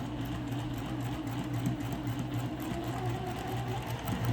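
A sewing machine back-stitching a fabric tray hums and whirs steadily at close range with a faint, even mechanical chatter throughout, and nobody speaks.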